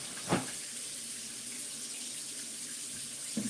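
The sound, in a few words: tap water running into a cooking pot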